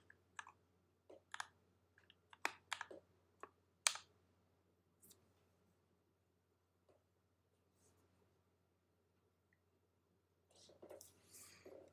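Mechanical keyboard with vintage black switches weighted at 63.5 g, typed on for a typing test, gives sparse, irregular, crisp clacks close by, with a quiet break before a denser burst of keystrokes near the end.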